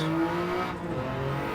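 A car engine in the video game Gran Turismo 7 hums steadily at moderate volume, a muffled sustained drone with a slight dip midway, no voices.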